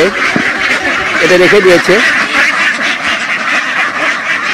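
Ducks on a low-cost farm, kept in a net-covered enclosure, quack in repeated nasal bursts close by while someone talks over them and continues throughout.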